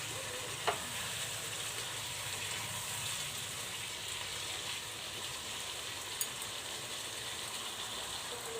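Chicken kosha with new potatoes sizzles steadily in hot oil as it is stir-fried, a dense, even crackle that continues throughout, broken by a couple of faint clinks of a spoon against the pan.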